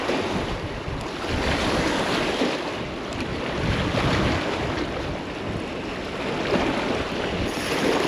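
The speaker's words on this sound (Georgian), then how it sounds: "აუ, ძალიან ქარია, აბა." Strong wind buffets the microphone on the shore of the Tbilisi Sea during a spinning fishing trip, a steady loud roar with gusty swells and water lapping underneath, no voices heard.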